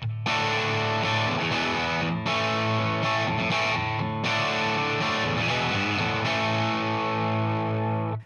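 Distorted electric guitar plays the three-chord opening riff of a song in a live-album style, loud and continuous with sustained chords and brief breaks, no talking.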